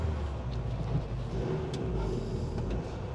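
A Hobbycar Passport motorhome over 30 years old rolls along the road, a steady low engine and road rumble heard from inside the cab with faint creaks and knocks.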